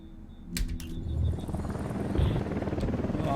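Helicopter in the Ghost Recon Wildlands game, its rotor thrum building and becoming a loud continuous chop after a few sharp impacts near the start.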